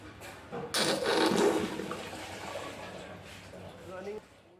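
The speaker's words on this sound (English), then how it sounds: "Running cold water right now" Cold water pours and splashes steadily into a clogged drain, a close, hissing rush that fades slightly toward the end, with no talking.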